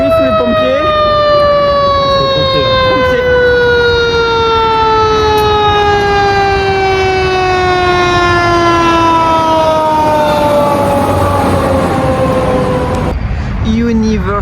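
Wailing siren of a police car or fire engine on a wide multi-lane US road near Orlando, loud and close, with sweeping rising and falling tones held steady for most of the stretch before cutting off near the end.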